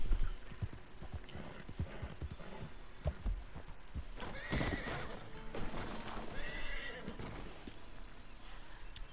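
A horse in the video game Red Dead Online neighs loudly several times while its hooves clip-clop along, with the whinnies standing out over the steady hoofbeats and game ambience.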